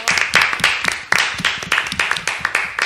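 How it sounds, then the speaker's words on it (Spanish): Canned applause effect on a Spanish radio show, a dense burst of many hands clapping at close range that swells in repeated waves, with no voices over it. "Maravillosos los aplausos enlatados que nos hemos traído este Cigüeñas de Colores de hoy"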